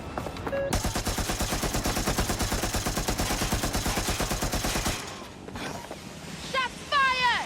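Video game gunfire, a long rapid burst of machine gun shots lasting several seconds, loud and close, followed by quieter game sounds and a brief voice.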